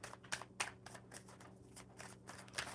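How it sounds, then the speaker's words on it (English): A few cards pulled one after another from a deck, with soft papery snaps and slides at an uneven pace, close and fairly quiet over a faint background hum. "We're gonna pull 3 cards and see what happens."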